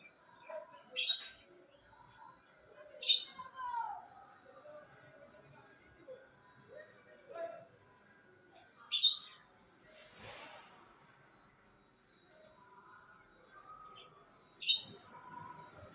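A bird chirps in a quiet home setting with a few sharp, high, isolated calls spread across the stretch, with faint voices and soft household noises in between.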